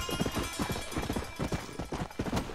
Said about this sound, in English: Well, we're just gonna continue to call you Horsey